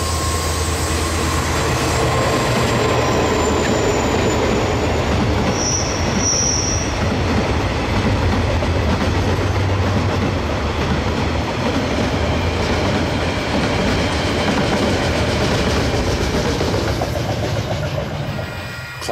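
A KiwiRail freight train hauled by two DFT diesel locomotives working in tandem on the Main South Line out of Dunedin, its engines a steady, loud drone over continuous rumbling wheels with occasional wheel squeal, no speech.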